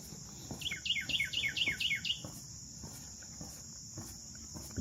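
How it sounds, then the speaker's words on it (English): A bird gives a quick series of bright chirps on a wilderness boardwalk trail, rapid repeated notes over a steady insect drone and soft footsteps, fairly close and clear. "Listen to that bird chirping."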